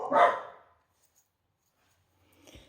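One short dog bark sounds at moderate volume in a quiet house, followed by silence and a faint thump near the end.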